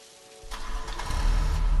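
A car engine in The Convenience Store cranks and catches, then rumbles and builds steadily louder as it pulls away, with no talking over it.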